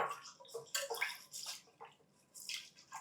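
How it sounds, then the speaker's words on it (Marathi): Chana dal is rinsed by hand in a bowl of water, with close, faint sloshing and swishing splashes coming in short irregular bursts. "आता यामध्ये भरपूर पाणी घालायचं आणि 2 ते 3 पाण्याने स्वच्छ धुवून घ्यायचे"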